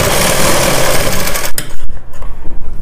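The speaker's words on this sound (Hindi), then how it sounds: "यहाँ पर हमें सिलाई को थोड़ा मजबूती से कर लेना है" A sewing machine runs a seam on a baby boy's pajamas, whirring loud and close in a steady buzz before breaking into shorter stop-start bursts of stitching.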